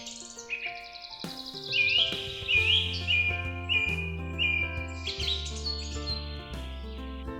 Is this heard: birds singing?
yes